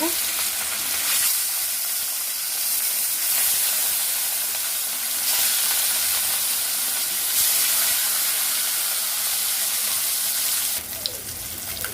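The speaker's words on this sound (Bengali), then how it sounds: "সিম আলু দিয়ে রুই মাছের পাতলা ঝোল রান্না করার জন্য প্রথমে আমি রুই মাছটাকে ভেজে নেব" Rohu fish pieces frying in hot oil, a steady dense sizzle with crackling spatter running throughout, close and fairly loud, with no voices.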